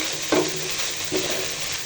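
Capsicum, carrot and cabbage stir-fry in a hot pan for chicken fried rice, a steady close sizzle with a couple of brief scraping stirs of the spatula and no talk.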